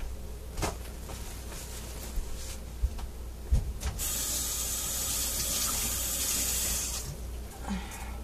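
Very warm tap water runs into a kitchen sink for hand washing while making homemade sweet roll bread, a steady close splashing stream that swells louder midway, with a few clinks around it.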